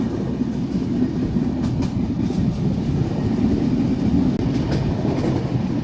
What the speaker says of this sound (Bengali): এটা যেহেতু ব্রডগেজ LHB র্যাক, তো দানবের মতো গতি, দুর্দান্ত গতি পারফরমেন্স